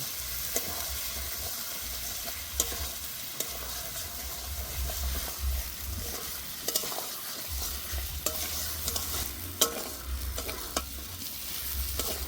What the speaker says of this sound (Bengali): এবার ভেজে রাখা আলুগুলো দিয়ে দেবো। আলু দিয়ে আবারও কিছুক্ষণ কষে নেব।